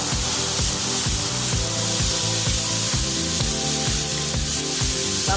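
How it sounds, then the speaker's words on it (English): Tomato and vegetables with thyme frying in a pan on a home stove, giving a steady, loud sizzle with a regular rhythmic thumping pulse running beneath it throughout. "I'm gonna fry this up guys."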